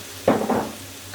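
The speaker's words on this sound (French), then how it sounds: "Une fois que mon huile est bien chaude, j'y rajoute mes oignons." Onions hit hot oil in a pan for homemade lasagne, giving a short, close burst of sizzling that quickly softens into a quieter hiss.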